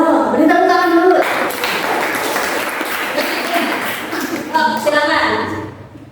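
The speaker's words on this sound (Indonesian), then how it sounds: "beri tepuk tangan dulu" A school class claps for a classmate heading to the front, steady applause from many hands in a room for several seconds, with voices talking over the start and end.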